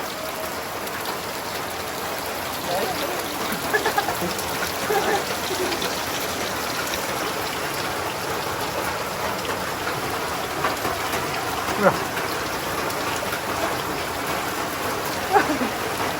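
Steady rain hisses throughout, with occasional louder drips and taps standing out against the dense wash of falling water.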